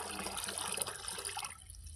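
Soil activator liquid is poured onto garden plants such as brinjal, tomato and chilli, a faint steady splashing trickle that stops abruptly before the end.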